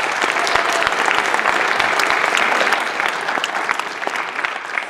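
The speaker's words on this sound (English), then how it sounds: "Just give yourselves another round of applause." Sustained applause from an awards show audience fills the room, dense and steady for nearly five seconds with sharp individual claps standing out, tapering only slightly toward the end.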